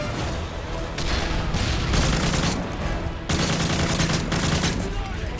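Bursts of rapid gunfire in Call of Duty: Modern Warfare 3 crackle loudly, with heavy booming shots and short gaps between volleys, sounding close and intense.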